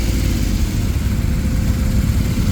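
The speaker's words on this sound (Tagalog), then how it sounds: "Dami din ang motor dito." Motorcycles rumble at a roadside cafe stop on a breakfast ride, a dense, steady low engine drone that stays loud throughout with no speech.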